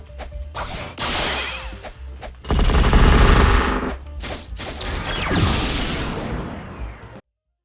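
Rapid gunfire from the Blox Fruits video game, with loud, dense bursts of shots that come in waves, the heaviest volley in the middle, with crashing impacts and whooshes between them.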